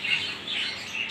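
Large parrots call continuously in a steady, bright chatter that fills the whole moment, close and fairly loud, in a hot indoor bird setup with no voices.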